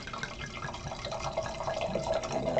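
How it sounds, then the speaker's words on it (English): Liquid pours from a bottle, a continuous splashing trickle with a hint of glugging that grows slightly louder toward the end, close and alone. "Look at that pour. Glug, glug, glug, glug, glug, glug, glug, glug."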